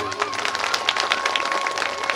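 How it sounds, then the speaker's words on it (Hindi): A crowd gathered for a Bhagavat Katha claps together in a short, steady burst of applause with a faint sustained tone underneath. "इसलिए एक बार जोरदार तालियां आप लोग अपने लिए बजाइए।"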